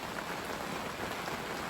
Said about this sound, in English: because it's still raining its butt off